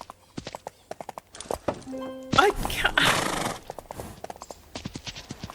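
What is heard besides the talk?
horses' hooves clip-clopping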